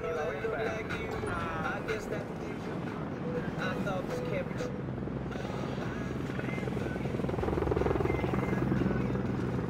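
Rotor thumping from a friendly support helicopter arriving in the Call of Duty MW3 video game runs steadily throughout, mixed with game effects and voices talking over it.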